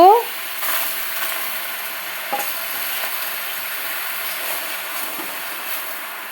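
Washed taro leaves drop into a hot wok with a brief loud hiss, then settle into a faint, even sizzle with a couple of light scrapes.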